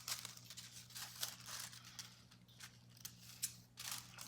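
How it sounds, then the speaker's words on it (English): Scissors cutting a paper triangle for a children's star craft, soft close snips and paper rustles repeating irregularly over a faint steady hum. "And then I'm going to cut out my triangle"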